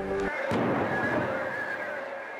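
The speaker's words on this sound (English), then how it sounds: "A few seconds ago, we just had repeated explosions in the street below me." Explosions go off in a street below a building: a sudden heavy blast followed by a long, rumbling wash of noise from a distance.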